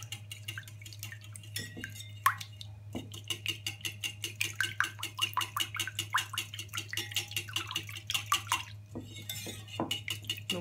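Eggs, water and vegetable broth are whisked together in a bowl, producing a quick, regular clicking and tapping of utensil against the bowl that runs almost throughout, fairly quiet and close, over a low steady hum.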